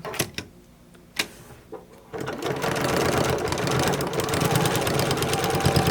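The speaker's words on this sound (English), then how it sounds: "I'm gonna start here, and I'm gonna sew straight down there." A few sharp clicks and knocks sound first, then a sewing machine stitches a seam with a loud, continuous whirring rattle that runs steadily to the end, close up, with no talking.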